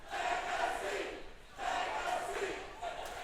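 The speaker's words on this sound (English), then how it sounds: "Crowd is not staying quiet for Thomas Xtreme's chops, as they want Legacy to get back into this" Wrestling crowd at a live pro wrestling event cheering and shouting in loud, sustained waves that surge and dip, with a brief lull near the middle before the noise swells again.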